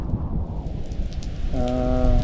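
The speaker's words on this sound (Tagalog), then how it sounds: "Naabutan na tayo ng ulan dito." Rain falling at a lake during a summer fishing trip, a dense steady hiss of drops on water and surfaces, close and fairly loud, with a faint tonal hum joining near the end.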